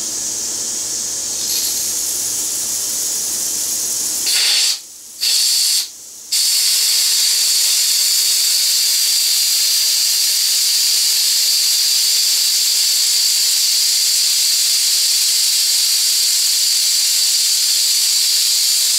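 Compressed air purges from an air compressor's water separator in a loud, continuous hiss, with two brief interruptions before the blast settles into a steady rush with no talking.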